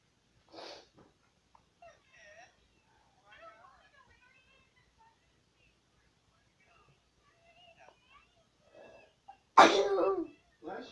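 A single loud, close sneeze bursts out near the end, after scattered quiet talking and small movement noises, with people speaking before it.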